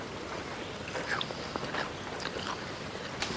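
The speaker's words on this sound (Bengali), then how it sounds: "এই যে দেখেন আমি আর আমার খালা খাইতেছি" Close, soft chewing and biting of chicken pitha cooked in banana leaves, with irregular small crunchy bites and mouth sounds over a quiet background.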